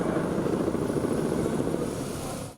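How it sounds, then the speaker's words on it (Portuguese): An armored Polícia Civil helicopter searching over forest gives a dense, steady rotor drone, loud and continuous, fading at the very end, with no voices. "o helicóptero blindado da Polícia Civil fazia buscas na mata"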